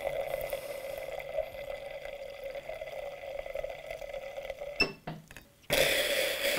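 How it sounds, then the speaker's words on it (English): A Winetell wine dispenser pushes air out to clean its wine route, a steady faint hiss with a low tone, ending in a couple of clicks and a louder burst of rushing air. "That is air being pushed out."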